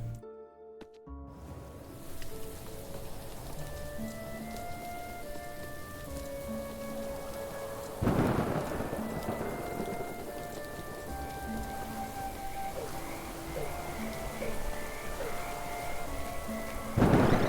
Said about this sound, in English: I don't like the thunder and lightning.